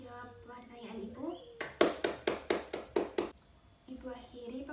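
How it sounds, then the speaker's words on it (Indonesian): Students in a classroom give a short round of applause, about seven sharp, evenly spaced bursts of clapping, with a teacher talking before and after. "Beri tepuk tangannya untuk ketiga teman kalian sudah mampu menjawab pertanyaan Ibu."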